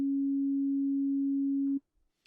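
A basic sine wave from the Ableton Operator synthesizer holds one steady, pure pitch for almost two seconds, then cuts off abruptly, followed by faint small clicks.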